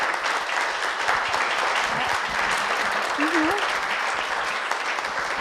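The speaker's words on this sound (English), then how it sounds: "I'd like to give another round of applause for Dr." Audience applause for a panelist at the close of a panel discussion on Black trans futurities, steady and sustained clapping throughout, with a brief whoop rising above it near the end.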